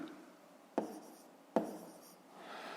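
A pen taps and scratches on paper during a fifth-grade maths exercise, with two sharp marks standing out over soft, continuous writing strokes, close and quiet with no talk.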